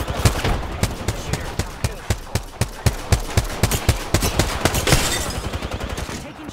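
Rapid automatic gunfire from Wraith's weapon in a video game, a loud, dense, near-continuous run of sharp shots with a brief break partway through and a voice now and then.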